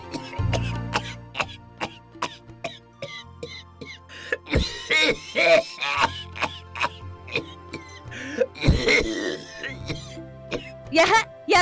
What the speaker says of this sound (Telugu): ఏదో దగ్గు చంపేస్తున్నావనుకో